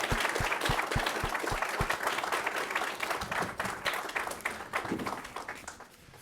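An audience at a panel event applauds warmly, with dense sustained clapping that starts strong and slowly fades out.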